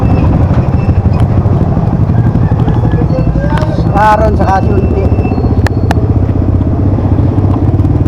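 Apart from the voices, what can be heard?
motorized tricycles passing on the road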